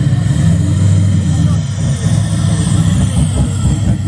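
A Toyota Crown at a hot rod and custom car show runs steadily close by, its low engine rumble continuous through the whole stretch, with a crowd murmuring in the background.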